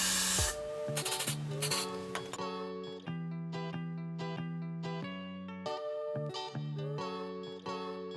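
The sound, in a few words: frizz spray sprayed onto hair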